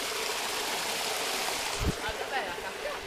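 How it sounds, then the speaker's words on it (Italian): A small waterfall in an outdoor natural setting gives a steady, broad rushing and splashing wash that fills the whole clip, with a few brief low thumps near the middle. "Questa dovrebbe essere la mini cascata."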